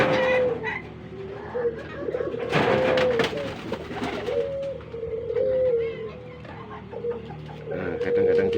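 Spotted doves and pigeons, some sick with sneezing and snoring, coo in repeated low, soft phrases that overlap one another with a steady rhythm, close by and moderately loud against a busy background.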